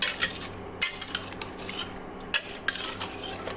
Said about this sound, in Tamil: சிக்கன் வந்து அடி பிடிச்சிடும் கிண்டிக்கிட்டே இருக்கணும்